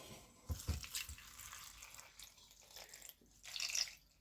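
A litre of water is poured into a pan for dandelion syrup: a faint, brief splash and trickle of liquid.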